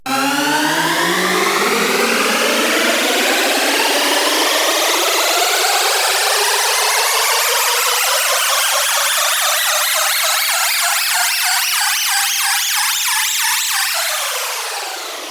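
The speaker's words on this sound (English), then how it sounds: "Let's tackle an advanced riser FX sound using a more intricate and extreme modulation." A riser effect synthesized in Sylenth1 from a four-note major chord spanning several octaves sweeps steadily upward in pitch for about fourteen seconds, loud and dense like a siren, then drops off at the end.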